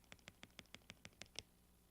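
A DJ mixer crossfader is moved back and forth in a normal transform pattern. It gives nine quiet, close clicks at an even, steady pace, with no talking.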